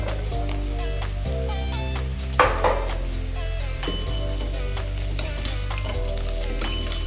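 Cut mushrooms frying with onions in a pan, a steady loud sizzle broken by repeated scraping stirs and a few spoon knocks against the pan, close up with no talking.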